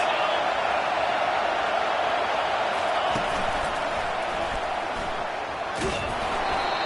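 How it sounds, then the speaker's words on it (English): Steady roar of a stadium crowd in the College Football 25 video game, a dense wash of cheering that stays loud throughout, with a couple of sharp knocks. "This crowd trying to make life miserable for this offense."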